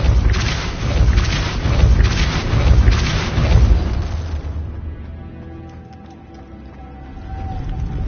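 A Depulso spell in the Hogwarts Legacy video game sets off a deep, rolling blast with several booming pulses, loud and close, fading into a quiet hum after a few seconds.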